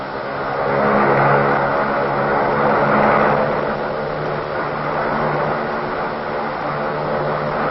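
A Mohawk reconnaissance airplane flies home, giving a steady, loud droning engine roar that swells slightly and holds evenly throughout, with no voices.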